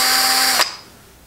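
A slow-spinning drill runs loud and steady while a scratch awl is sharpened against it, then cuts off abruptly after about half a second, leaving only quiet room tone.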